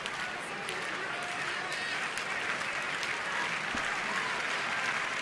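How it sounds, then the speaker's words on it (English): A baseball stadium crowd at a Mets–Nationals game applauds and cheers in a steady, dense roar of clapping heard from a distance, sustained throughout. "And now the crowd is starting to enjoy this."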